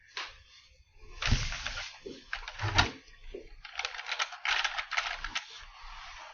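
Keys on a computer keyboard clatter in quick irregular bursts, with short pauses between runs of typing, fairly close and moderately quiet.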